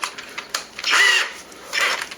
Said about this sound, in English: a Phillips bit that fits about just in the right spot, an extender that's generic, and doesn't have to be a fancy drill